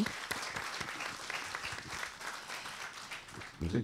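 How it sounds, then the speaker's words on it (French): Room audience applauding Clarisse at a workshop on flexible work organisation, moderate steady clapping from many people, faint and fairly distant, with a voice breaking in at the very end. "Vous pouvez applaudir Clarisse."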